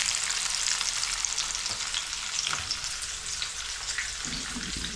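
Stuffed bitter gourd fries slowly in a pan, giving a steady hissing sizzle with a few faint knocks and shifts beneath it and no talk.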